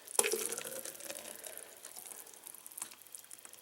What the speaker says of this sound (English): So I'm just going to pour this